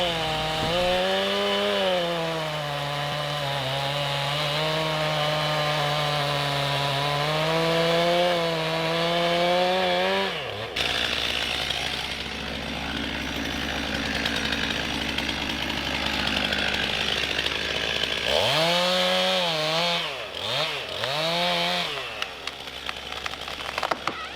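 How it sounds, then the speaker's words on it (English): A chainsaw runs close and loud, notching and felling trees, its pitch dipping as it bites into wood, then revving up and down in short bursts between cuts. "And with the chainsaw, they would make notches in the front of the tree"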